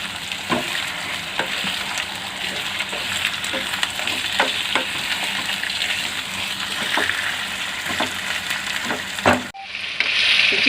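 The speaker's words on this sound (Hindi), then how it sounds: "चिकन को भूनेंगे।" Chicken pieces frying with onions in a pan for chicken jalfrezi, a steady loud sizzle with occasional stirring scrapes, cutting off near the end into a brief quieter hiss.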